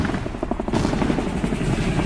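A helicopter in the video game PUBG, a steady rotor chop and engine drone at moderate volume, continuous through the clip.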